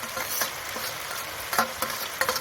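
Black cumin, green chilli and onion fry in hot oil for a pumpkin and prawn curry, a steady close sizzle broken by several sharp scrapes and clinks of a spatula stirring the pan, with no voices.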